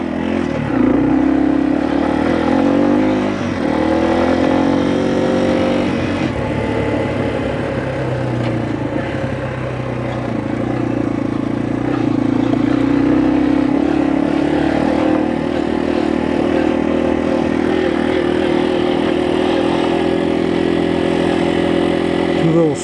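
A Yamaha TW motorcycle rides through a creek crossing, its single engine droning steadily up close, rising and falling with throttle changes over more than twenty seconds.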